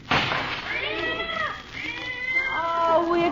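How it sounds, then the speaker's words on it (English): A cat meows in a long, drawn-out wail, then a second rising meow follows, close and loud, inside an old house at night after a tense wait. "Oh, it's a cat."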